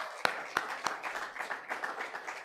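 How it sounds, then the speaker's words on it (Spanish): A church congregation breaks into applause for the Lord during a service: three distinct claps ring out, then dense, steady clapping follows, fairly faint and distant in a reverberant hall. "¿Cuánto dan un aplauso al Señor?"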